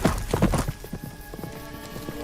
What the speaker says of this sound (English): Is that the lost horse?